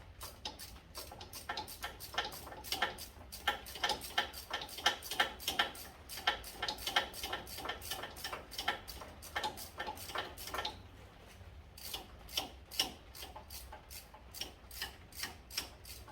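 Hand ratchet with an extension turning a fastener near a van's axle, a steady run of quick metallic clicks in even strokes, close and clear, pausing briefly before resuming.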